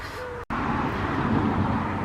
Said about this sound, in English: Sorry about the noise of the cars.